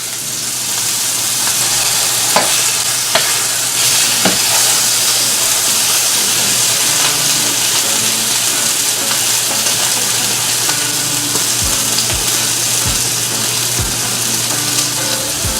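Steaks sear in a hot pan with a steady, loud sizzle and hiss, broken by a few sharp crackles and utensil taps; no voices.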